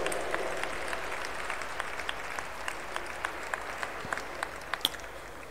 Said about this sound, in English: Please give a big round of applause for Bhaktivedanta Book Trust.